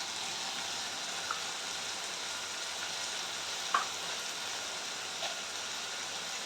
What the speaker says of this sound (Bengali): পেঁয়াজটা ভাজা হবার পর দিয়ে দেব 2 চামচ মতো আদা রসুন বাটা।